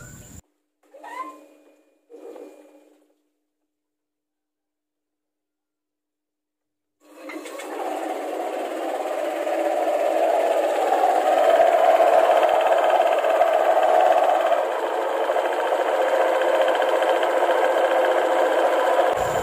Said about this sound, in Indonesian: Oke, bagian CVT-nya udah terpasang ya. kita tes hidupkan dulu.